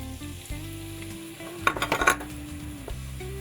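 A large onion and leek sauté in olive oil with a low, steady sizzle. A short burst of clattering utensil and pan noise sounds in the middle, and nobody talks.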